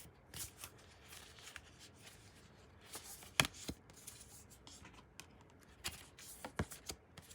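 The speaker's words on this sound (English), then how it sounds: "I am going to shuffle" Tarot cards being shuffled by hand, a series of quick riffling bursts and soft flicks at irregular intervals, close and fairly quiet.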